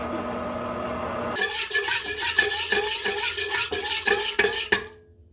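Pizza dough being mixed in a bowl, quiet at first, then a run of rhythmic scraping and knocking strokes repeating roughly every half second before stopping abruptly.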